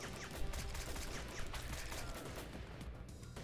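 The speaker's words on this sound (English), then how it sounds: "I'm glad that they added more to the machine gun, because before it kind of only used to shoot once" Dense, loud bursts of rapid machine-gun fire from the Air Supremacy video game, overlapping shots rattling continuously for a few seconds amid other game effects.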